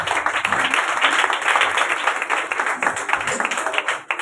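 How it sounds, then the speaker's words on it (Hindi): Loud, sustained applause for a team at a church gathering, dense clapping that holds steady for several seconds before thinning at the end. "एक दफा टीम के लिए जोरदार तालियां।"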